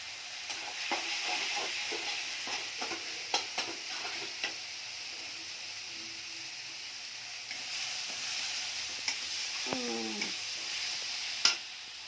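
Cooking with a paste of green chili, onion and garlic ground on a grinding stone, heard as a steady soft frying hiss with scattered stirring clicks and taps, close by and fairly quiet, with no talk.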